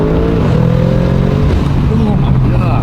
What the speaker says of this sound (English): the burbles on this sound really good too